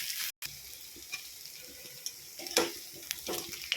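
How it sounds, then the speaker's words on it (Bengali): Mixed pakora fry in hot oil with a soft, continuous sizzle, broken by occasional sharper crackles and light stirring clinks, close and fairly quiet. "ভালো করে একটা সাইড ভাজা হয়ে যাওয়ার পর তারপর একটু পাল্টে দেবে।"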